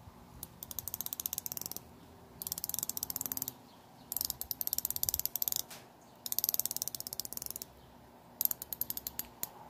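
The unidirectional bezel of a Doxa 5000T Sharkhunter dive watch is turned by hand, giving close, crisp bursts of rapid ratcheting clicks separated by short pauses, with no talking.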